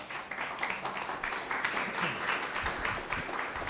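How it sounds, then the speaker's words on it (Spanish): A church congregation applauds the pastor's wife with a steady wash of clapping that holds for several seconds at moderate distance, a few voices faintly underneath. "Y aquí quiero pedirle un fuerte aplauso para mi esposa"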